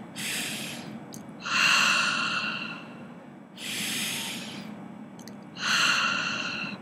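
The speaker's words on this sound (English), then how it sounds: "And breathing deeply, remember that breathing?" Slow, deep breaths sound close by, each one a long airy inhale or exhale with a pause before the next, repeating in a steady rhythm with no talking.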